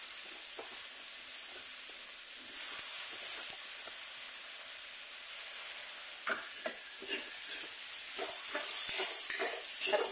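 Steady high-pitched sizzle of small ipon fish hitting hot oil in a pan with banana heart, a continuous hiss broken by short crackling bursts near the end, no voices.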